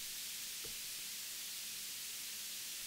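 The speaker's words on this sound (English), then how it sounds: "I also have some white noise that is sidechained to the kick" A wash of bright white noise sidechained to a kick drum in a music production hisses steadily throughout, with a faint low thump near the start and no other instruments or voices.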